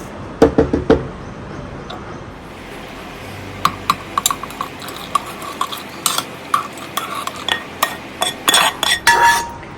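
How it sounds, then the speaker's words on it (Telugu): A spoon scrapes and taps against a metal mixer jar in a quick series of clinks and knocks as cooled tomato chutney ingredients go in, close up, with no talking. "నేను ఒక మిక్సీ జార్లో వేసుకుంటున్నాను"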